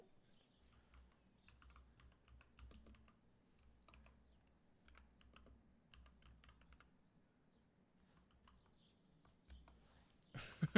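Light, irregular typing on a computer keyboard, quiet and close, comes in loose bursts of key clicks with short pauses. A low background rumble sits under it, and a louder knock lands at the very end.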